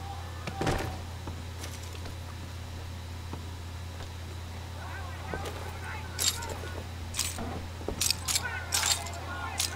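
Keys jangle in brief metallic bursts while a body is searched in Red Dead Redemption 2, set over a steady low hum with muffled voices in the background.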